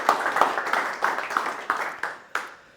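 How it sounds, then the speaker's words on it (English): Audience applause for Noah Humfeld at a spring 2024 speaking event: rhythmic hand clapping with repeated sharp bursts that fades toward the end. "let's give a round of applause for Noah"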